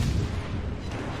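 A heavy naval gun salvo from USS Indianapolis, a cruiser in World of Warships Legends, booms as a deep, rumbling roar close and loud, filling a brief moment with dense low thunder.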